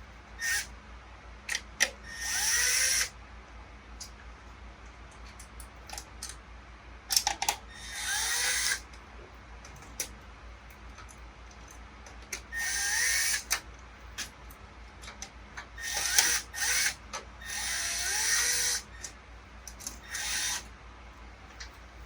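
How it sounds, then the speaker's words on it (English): A screw is driven into a bracket on an arcade coin slot during an RFpay installation, heard as repeated short, close bursts of a small driver whirring with handling noise in between, and no talking. "We'll line that up with those and screw them in."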